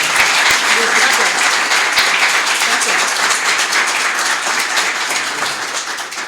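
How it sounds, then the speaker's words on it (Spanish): Audience at an investment conference breaking into loud, dense applause that holds steady for several seconds and then starts to fade, with a voice speaking briefly over it. "Un aplauso, por favor, para Luis."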